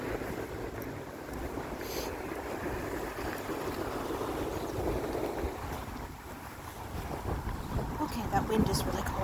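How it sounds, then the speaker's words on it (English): Cold December wind blusters along the Halifax shore during a walk, a steady close rushing roar with gusts buffeting the microphone, and a voice is faintly present underneath. "wind is really cold"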